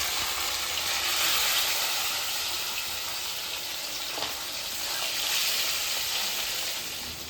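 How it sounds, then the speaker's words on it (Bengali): River fish (bele) frying in hot oil in a wok, a continuous loud sizzle and crackle with occasional bubbling pops, close up and unbroken by talk. "তেল গরম হয়ে গেছে, মাছটা ভাজার জন্য আমি কড়াইয়ে দিয়ে দেবো।"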